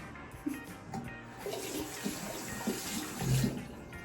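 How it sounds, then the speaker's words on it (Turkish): Tap water runs steadily into a sink while someone washes their face, with splashing bursts and a louder gush near the end, close by and with no talking. "Şimdi şu yüzümü bir yıkayayım"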